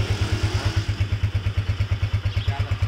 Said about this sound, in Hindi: जैसे अब घर से निकल रहे हैं बाइक गर्म हो रही है